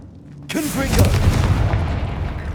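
A Confringo blasting spell goes off in the Hogwarts Legacy video game as a sudden loud, booming burst that rolls on into a sustained rumble with crackling debris. A voice runs underneath.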